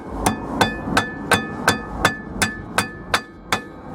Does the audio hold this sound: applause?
no